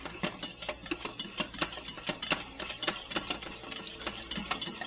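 A whisk scrapes rapidly and steadily around a pan of ham gravy made from ham stock and rendered ham fat, a close, even rhythmic ticking of strokes with no voices.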